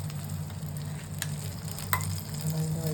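Egg poured into a pan of chicken sauce for a quick breakfast, a steady close sizzle with a soft stir or splash near the end, no talking.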